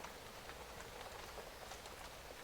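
Steady rain pouring outside during a storm, a dense even hiss with scattered droplet patter, constant and fairly faint throughout with no voices.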